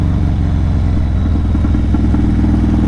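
A cammed engine chugs in first gear while cruising, a loud, lumpy, rhythmic idle-like rumble with uneven pulses, close up and without talk.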